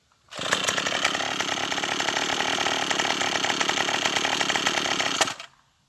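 Troybilt TB21EC pole saw's small two-stroke engine, fitted with a swapped carburetor, starts abruptly and runs loud and close with a buzzing, steady rattle for about five seconds before cutting off, no talking.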